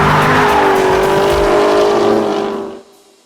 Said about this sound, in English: Really great front end on this Camaro. It's got a little bit of oversteer, but it's very controllable oversteer,